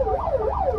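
A wailing siren rises and falls in quick, repeated sweeps over traffic rumble near a toll plaza, sounding fairly close.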